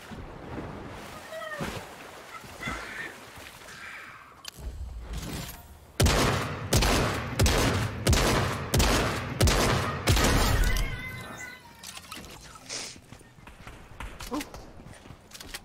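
Rapid bursts of gunfire in the video game Fortnite, loud volleys cracking through the middle of the clip among quieter game sounds and water-like background noise.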